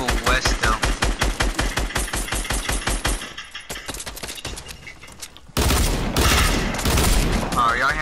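Rapid bursts of automatic gunfire from a Fortnite match, loud and dense, pausing briefly before a heavier, sustained barrage resumes.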